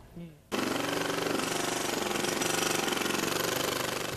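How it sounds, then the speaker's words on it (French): A jackhammer breaks up a residential swimming pool in California, starting abruptly after a brief lead-in and pounding in a rapid, loud, steady rhythm close by, with a voice speaking over it. "Démolir sa piscine au marteau-piqueur."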